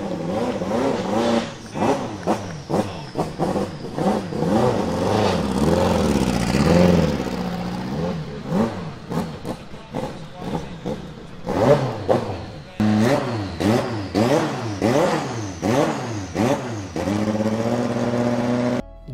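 A road-legal Nissan R390 race car, converted from a racing machine, revs its engine repeatedly, rising and falling in sharp blips and longer climbs, loud and close throughout.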